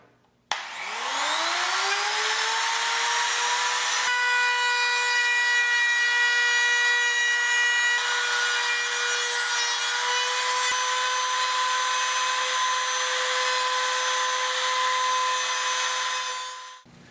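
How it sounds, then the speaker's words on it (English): A trim router fitted with a cove cutting bit spins up to a high, steady whine while routing along the edges of a wooden piece. The whine holds loud and constant for about sixteen seconds, then cuts off at the end. "mounted my cove cutting bit in the trim router, and we're just going to use that and run down along the edges of the wood"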